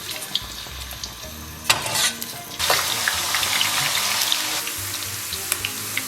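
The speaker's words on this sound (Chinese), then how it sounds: "然后咱们给锅里边稍微来点油， 咱们先把姜给它放里边" Sliced ginger frying in a little hot oil in a wok, beginning with soft crackles and then bursting into a loud, continuous sizzle with scattered pops.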